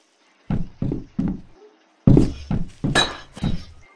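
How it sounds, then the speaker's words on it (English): Window glass broken by gunfire in Garry's Mod, a few dull knocks followed by a louder burst of shattering, clinking glass, close and sharp. "Like, boy, you broke the window!"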